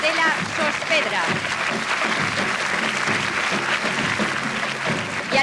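A crowd applauds the carnival queens at the 1995 Vinaròs Carnival, a dense, sustained burst of clapping with voices mixed in, loud and steady throughout.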